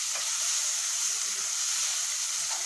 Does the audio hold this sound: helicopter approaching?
no